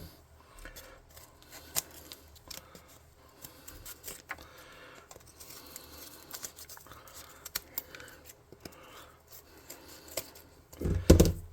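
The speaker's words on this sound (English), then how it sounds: "I'm going to snip off this excess crap" Scissors snip away excess material from a tabletop hover car junkyard scatter piece for a tabletop RPG, with scattered small clicks and snips among crinkly handling noise and a louder burst of cutting near the end.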